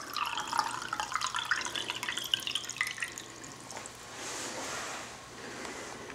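Water running and trickling from the tap of a drinking water filtration system, a soft, steady faint stream with light splashing, continuous throughout.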